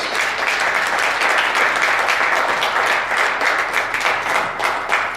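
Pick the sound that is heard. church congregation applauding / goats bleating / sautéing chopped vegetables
church congregation applauding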